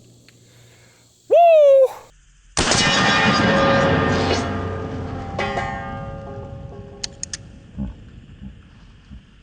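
A single loud, close shot from a .460 S&W Magnum revolver with a long, rumbling tail, preceded by a brief whooping shout.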